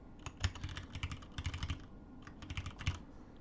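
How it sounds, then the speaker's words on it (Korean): Quick taps and clacks on a computer keyboard as the Enter and ESC keys are pressed, a handful of close, crisp keystrokes in short clusters with gaps between them. "오른쪽 키 방향키 눌러주고 숫자 키패드 엔터 혹은 ESC 엔터 누를게요"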